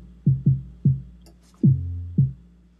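Hard-style kick drum synthesized in Massive inside Logic Pro 9, without distortion: five punchy, booming low thumps in an uneven pattern, the fourth held longer with a sustained tonal tail, clean and alone.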